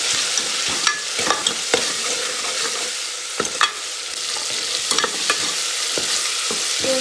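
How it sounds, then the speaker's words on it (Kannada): Pulao spice powder with ginger garlic paste frying in a pan, a steady loud sizzle with frequent scraping and stirring clicks throughout, close up and with no talk. "ಫ್ರೈ ಆಡಲೆ"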